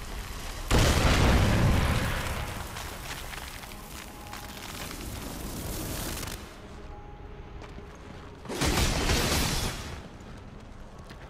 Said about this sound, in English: so you have to use a shadow bomb to dislodge this